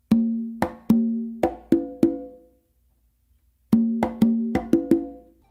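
Resonant conga open tones ringing out in two quick phrases of about five strokes each, separated by a short silence, close and clear.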